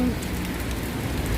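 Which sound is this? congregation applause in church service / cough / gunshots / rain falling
rain falling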